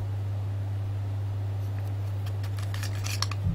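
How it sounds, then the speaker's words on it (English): Small metal Dragon Ball Z medallions clink together in a few light, quick taps near the end, faint and close over a steady low electrical hum. "hearing how they sound when they collide with one another, they seem to be comprised of metal"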